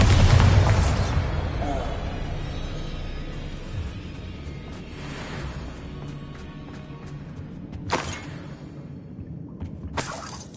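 A Bombarda spell blast in Hogwarts Legacy, a heavy booming explosion at the start followed by whooshing spell effects, sharper bursts near the end, and a voice calling out.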